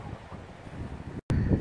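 Steady wind buffets the microphone in low rumbling gusts, briefly cutting out before returning just as strong.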